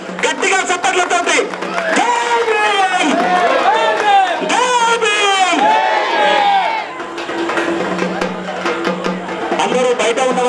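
A village crowd at a statue unveiling of Mahatma Jyotirao Phule and Savitribai Phule in Haripirala loudly cheers and shouts a welcome for an arriving SC Corporation chairman. Many voices blend in a dense, sustained roar throughout.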